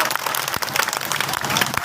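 A crowd at a Hindi poetry gathering breaks into applause, thick continuous clapping close and loud throughout the short burst, with voices mixed in beneath.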